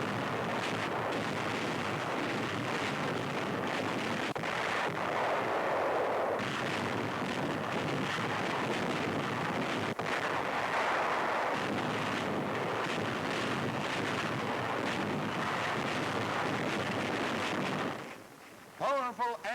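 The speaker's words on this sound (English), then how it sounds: "Universal Newsreel's Irving Smith records the bombardment." A WWII naval bombardment of the beach at Guam in the Marianas rumbles as heavy, continuous booming gunfire under a newsreel narrator's voice, then briefly drops away near the end.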